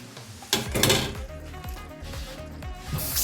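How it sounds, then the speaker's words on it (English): Potatoes drop into a venison stew pot, with a sharp clatter and thump about half a second in, then a few softer knocks and scrapes in a home kitchen. "I'm gonna add my potatoes."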